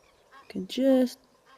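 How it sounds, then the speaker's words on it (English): An Egyptian goose at a waterhole lets out a short honking call with a few rough notes before it, then falls quiet against a calm outdoor background. "Sounds like I can hear very faintly an Egyptian goose."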